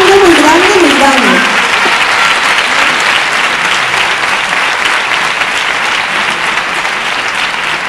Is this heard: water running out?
no